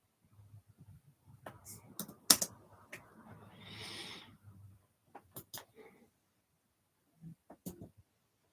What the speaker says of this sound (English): I'm just typing in the substitutes for